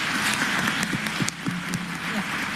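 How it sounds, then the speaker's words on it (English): Applause from a city council meeting, a dense, steady wash of many hands clapping at once that fills the whole moment, with talk mixed in. "it really does deserve a hand clap"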